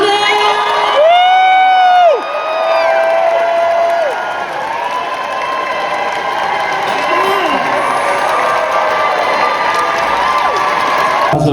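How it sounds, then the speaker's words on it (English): A Comic Con panel crowd erupts as guests take the stage: loud, sustained cheering with high screams, whoops and clapping, several piercing shrieks rising above the roar early on. "do not stop screaming, shouting and clapping until they get up on the stage"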